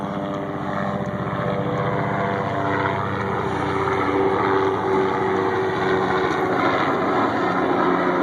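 A steady droning rotor and engine roar fills the whole stretch, holding loud and constant like an aircraft passing close overhead.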